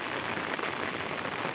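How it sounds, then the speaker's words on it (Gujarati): A downpour of heavy rain in Vejalka, a thick steady roar of water drumming on nearby surfaces, loud and uniform throughout with no talk. "તમે જોઈ શકો છો કેવો મસ્ત વરસાદ આવી ગયો"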